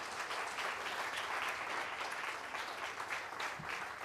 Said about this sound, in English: So can we hear a round of applause for her?